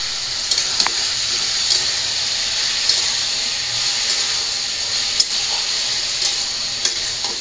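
Dal boils in a pot on the stove with a loud, continuous steamy hiss and bubbling, broken by faint, sparse clinks, steady and close for the whole stretch.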